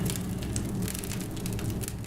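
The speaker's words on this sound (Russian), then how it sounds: "Вот наш костер уже разгорелся." A wood fire burning in a home fireplace, a dense, continuous crackle with scattered louder pops over a low, steady roar, close and loud with no voices.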